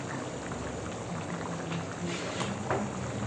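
Water for beef yakhni pulao boils in a pot, giving a steady close bubbling and churning hiss that runs throughout without any voices.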